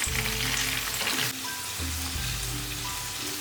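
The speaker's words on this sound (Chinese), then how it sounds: "油烧热之后，下入豆腐， 开中小火慢煎" Tofu pan-frying over medium-low heat in hot cooking oil gives a steady, close sizzle throughout, with a brief dip partway and no voices.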